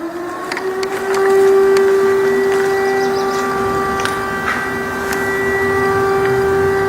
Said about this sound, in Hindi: एक बार फिर से आप सुने तो तेज सायरन दोबारा बज रहा है और ये एयर रेड का सायरन है।